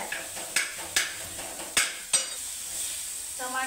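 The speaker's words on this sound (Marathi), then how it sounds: "चिपकलं नाही पाहिजे याच्यासाठी असं जर फिरवायचं मस्त" Eggplant cooks in a tomato curry while a spoon stirs it around the pan, giving several sharp scraping knocks over a faint background sizzle, followed by a brief voice at the close.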